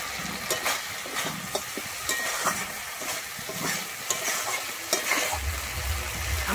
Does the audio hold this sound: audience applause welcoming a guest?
no